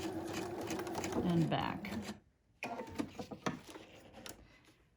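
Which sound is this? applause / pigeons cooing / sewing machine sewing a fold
sewing machine sewing a fold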